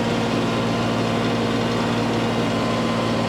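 An LS XR3140H tractor's diesel engine idling, a steady, loud, unchanging rumble with a constant low hum and no one speaking.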